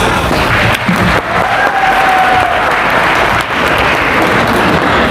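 A crowd at a volleyball academy's end-of-season celebration gives loud, dense applause, many hands clapping in a continuous roar with little variation in level.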